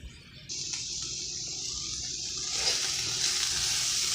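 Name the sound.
draining grease out of frying pan after cooking beef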